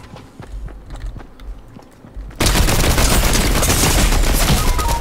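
Fortnite gunfire: a few faint distant pops and footsteps, then a sudden loud, dense stretch of rapid shooting that holds steady to the end.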